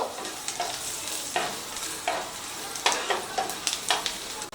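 Chopped garlic and a piece of cinnamon sizzle steadily in hot oil in a pan for tomato soup. A utensil scrapes and stirs through the frying several times.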